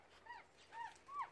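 A beagle puppy whimpers in three soft, high, rising whines spaced across a moment, faint and close with no talking over them.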